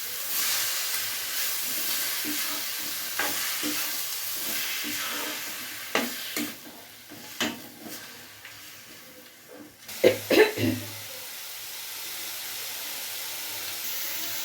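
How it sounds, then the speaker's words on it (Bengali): Grated papaya sizzles steadily in hot oil in a home kitchen while a spoon scrapes and stirs the pan, with a constant close hiss and occasional clatter. "তেলে ছেড়ে দিলাম। তারপর ভালো করে নাড়াচাড়া করে নিলাম।"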